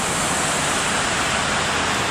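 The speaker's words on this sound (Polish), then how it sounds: "dlatego w tle jest ta głośna rzeka" A loud river rushes nearby in Lębork, Poland, a dense, steady roar that fills the whole stretch without pause or voices.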